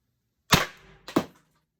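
Two sharp close cracks about half a second apart from a Pepperball TCP launcher with a 6-inch Lapco barrel, the first a loud shot and impact with a brief rattling tail, the second slightly softer, in a quiet outdoor setting.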